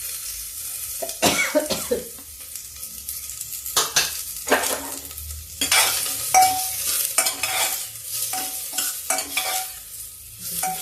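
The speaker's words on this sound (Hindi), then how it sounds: "प्याज भी भून जाएगा थोड़ा।" Onions frying in a pan while a Hindi home cook makes aloo palak with bajra puri, with repeated stirring scrapes and a steady sizzle. A cough and a few clinks break in, and nobody speaks.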